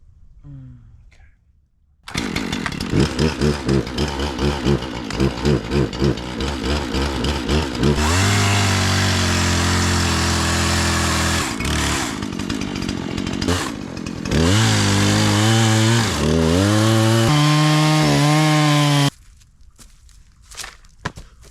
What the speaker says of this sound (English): One of the best chainsaws. It just doesn't keep going. Dies.